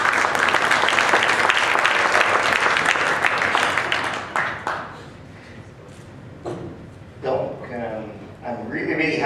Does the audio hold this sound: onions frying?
no